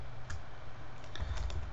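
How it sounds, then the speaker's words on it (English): A computer keyboard clatters under quick key presses, with a few sharp clicks spread unevenly across a short, quiet stretch. "I'll first clean my screen using the Ctrl L key combination"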